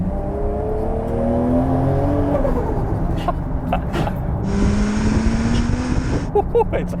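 A 720hp Toyota Supra Mk4 with a straight-six 2JZ engine, a GReddy T88 turbo and aftermarket cams revs nearby, the engine pitch rising and falling, with a turbo whine joining in partway through.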